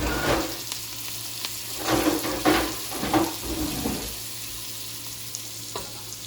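Bacon fries in a pan with a soft, steady sizzle and hiss, broken by a few louder scraping stirs in the middle, with no talking.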